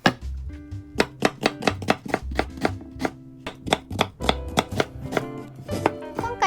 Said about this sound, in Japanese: 芯を取ってみじん切りにしましょう。